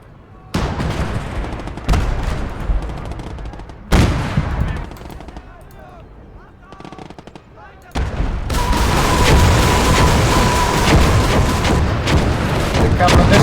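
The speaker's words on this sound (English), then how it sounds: "Here come the missiles again." Missile explosions and gunfire in the war game Legion of the Damned: loud bursts of booming fire and crackling shots that come in separate blasts and then settle into a sustained, dense roar of battle.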